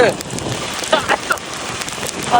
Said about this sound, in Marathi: आणि असल्या पावसात आम्ही चाललेलो आहे भिजत भिजत आमच्या प्रवासाच्या दिशेने घराकडे